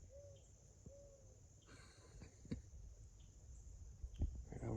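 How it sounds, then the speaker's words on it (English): Two owl hoots ring out on a Florida night, each a short, fairly distant falling call about a second apart, followed by scattered knocks and faint rustling over a steady insect drone. "That was an owl sound."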